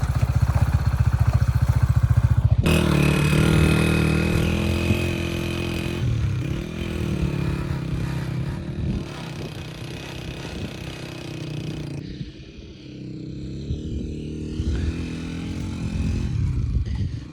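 A motorbike engine runs while riding along a river in winter in Pakistan, loud and close, with shifting revs, chugging pulses and a brief drop in level midway, continuous throughout.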